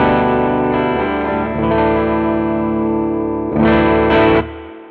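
Strummed chords ring from a Squier Contemporary Active Starcaster electric guitar on its bridge pickup, loud and sustained with effects coloring the tone, two brighter strums standing out near the end before a fade.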